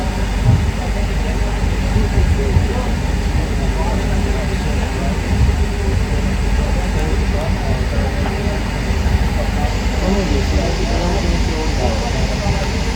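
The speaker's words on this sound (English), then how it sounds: "Now I'm taking a train from Central" Steady rumble of a Sydney commuter train riding from Central toward Katoomba in the Blue Mountains, continuous wheel and track noise filling the carriage at close range for the whole stretch.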